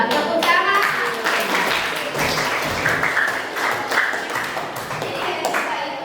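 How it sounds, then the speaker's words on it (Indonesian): Middle school students clapping together in a classroom, a brief burst of hand claps that dwindles into scattered taps, with some voices and a bright ringing tone mixed in. "Ya, tepuk tangan."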